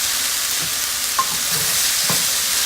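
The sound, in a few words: shrimp and teriyaki sauce sizzling in a wok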